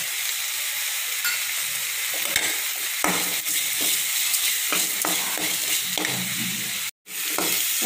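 Onion and tomato sautéing in a kadai, a steady broadband sizzle with repeated stirring scrapes throughout and one brief dropout near the end; no talking.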